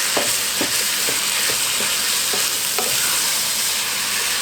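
Cream cheese gets stirred into a walking taco casserole in a hot pot, with steady sizzling and regular scraping strokes of the spoon against the pot, close and clear with no talking.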